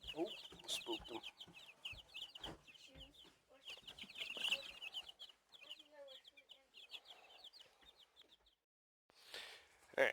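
Broiler chicks in a greenhouse, startled into a flurry of rapid high peeping and chirping, close by, with soft rustles and a few brief human sounds mixed in before it quiets.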